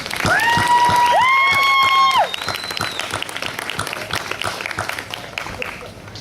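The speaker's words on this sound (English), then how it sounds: "I think we should also give her another round of applause" A conference audience applauds the chief organizer, loud clapping mixed with cheers and a sustained whistle early on, then thinning to scattered claps as the applause dies down.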